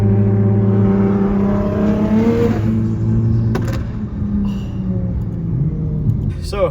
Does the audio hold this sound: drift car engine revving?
yes